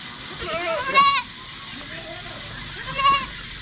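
Goats on a farm bleat twice, a loud wavering cry near the start and another a couple of seconds later, close by over quiet background.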